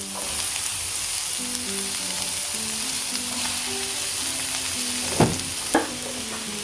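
Chopped onion added to hot oil with browned garlic for churakka thoran sizzles and fries steadily in a pan, close and even, with a couple of sharp stirring clatters near the end.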